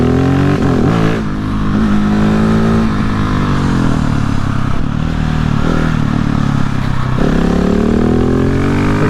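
A 2020 Husqvarna 701 motorcycle engine drones loud and close as it rides a bumpy road, rising and falling in pitch with throttle changes, with wind rush over the whole stretch.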